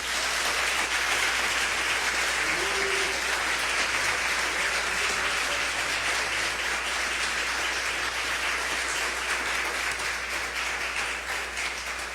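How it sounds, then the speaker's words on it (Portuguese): A congregation in a Brazilian evangelical church service applauds in sustained, dense clapping that fills the room steadily for several seconds, with no talking over it. "Será que você pode aplaudir o Senhor?"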